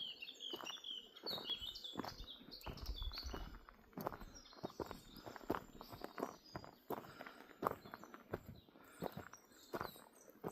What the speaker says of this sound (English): let's listen to all the birds in here